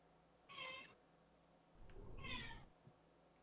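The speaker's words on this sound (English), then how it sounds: "Sounds like a kitty." A cat meows twice, each a short, clear, fairly loud call with a quiet gap between them and a faint low rumble in the background.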